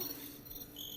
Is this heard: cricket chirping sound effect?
yes